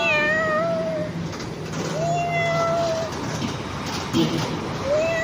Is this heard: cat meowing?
yes